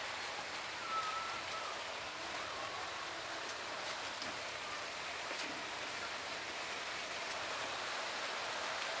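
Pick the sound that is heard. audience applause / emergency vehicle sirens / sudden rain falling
sudden rain falling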